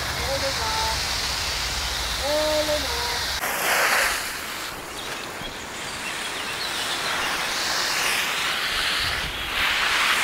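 Water splashes over garden plants on a small farm in Germany, a broad, steady rushing hiss that shifts slightly partway through, with brief bird chirps early on.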